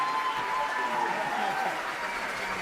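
Steady, dense applause from the audience at the Oscars ceremony after Best Picture is announced, continuous and fairly loud, with voices mixed in.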